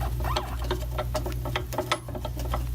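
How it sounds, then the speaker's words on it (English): A screw is driven through an Ergotron LX HD monitor arm mount into a metal frame, giving a steady run of small ticking, clicking turns over a constant low hum. "I'm gonna screw it on so that"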